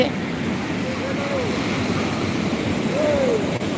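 Sea waves breaking on the shore at Puri beach, a steady, loud surf roar that fills the whole stretch with no pause, close and continuous.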